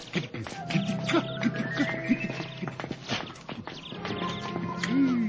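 Horse hooves clip-clop at a steady walking rhythm through a period-drama scene, with a brief whinny and faint voices in the background.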